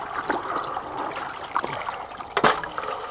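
Pump-fed water flows through a highbanker sluice with a fresh mesh, a close, continuous trickling and splashing stream with a few louder gushes, no voices.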